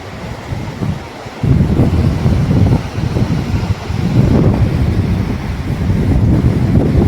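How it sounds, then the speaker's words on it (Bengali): A small but forceful waterfall in Spiti Valley pours down into a river, giving a loud, continuous broadband rush close by, steady throughout with some surging swells. "খুব বড় ঝর্ণা নয়, কিন্তু জলটা খুব ফোর্সে উপর থেকে নিচে পড়ছে।"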